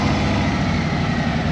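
A Road Glide motorcycle idles with a Jekyll & Hyde electronic adjustable exhaust in closed, stock-quiet mode. The engine holds a steady, low rumble close by, with no revs.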